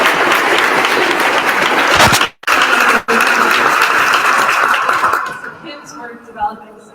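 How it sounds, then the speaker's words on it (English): A crowd at the Massachusetts State House gives a loud, dense round of applause. It is briefly cut off twice, then thins out into scattered claps and voices as it fades. "So I'd like to ask for a round of applause."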